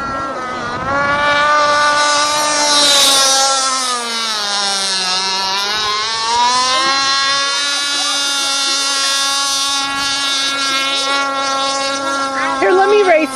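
A 42-inch Sprint Cat RC catamaran races on water, its high electric motor whine loud and sustained, rising and falling in pitch as the boat speeds past.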